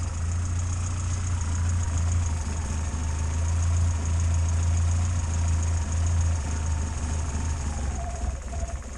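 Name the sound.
Morris Minor car engine idling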